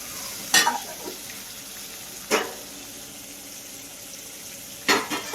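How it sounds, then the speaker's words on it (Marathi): Short bursts of sizzling as tomato puree hits a hot pan, three distinct hisses spaced apart over a quiet, steady kitchen background. "त्याची आता टमॅटोची प्युरी हातानेच टाकते"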